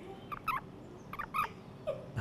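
A male toad held in a hand in a garden gives short, high chirps like a small bird, three brief bursts spaced evenly apart, faint and close with no talking.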